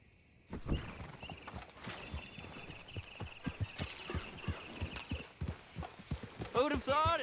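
Horse hooves clip-clop at a steady walking rhythm while riding in Red Dead Redemption 2, close and moderately loud with a faint background tone, and a voice briefly speaks near the end.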